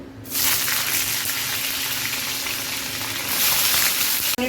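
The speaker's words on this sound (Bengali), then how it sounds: "এখানে আদা আছে, হলুদ, লবণ, গরম মশলা আর ধনে গুঁড়া নিয়ে নিব। এগুলো ভেজে নিব।" Tomatoes, chillies, ginger, turmeric, salt, garam masala and coriander powder frying in a pan, a loud, close, steady sizzle that starts abruptly and hisses on without pause, swelling slightly near the end.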